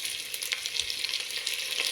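Vegetables sautéing in a pan for sopas, heard as a soft, steady sizzle with a few light stirring scrapes, close but fairly quiet, with no voices.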